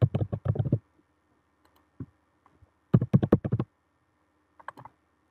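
Bursts of quick keystrokes on a computer keyboard, a rapid clatter of clicks, a pause with a few stray taps, then another flurry and a last few keys, close and clear in a quiet room.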